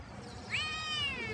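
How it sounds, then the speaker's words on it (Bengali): A single cat gives one drawn-out, rising-then-falling meow at close range, loud and clear over a low background rumble in a village courtyard. "এই বিল্লিটা আমাকে জ্বালাইলো।"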